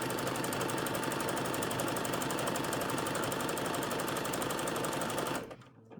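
A sewing machine stitches a seam in lycra for a bodice, running steadily and loud with a fast, even mechanical rhythm for several seconds before stopping abruptly.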